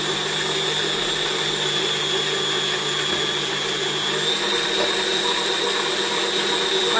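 A kitchen machine motor hums steadily and loudly while kneading semolina bread dough, a constant whirring drone with no pauses and no talk.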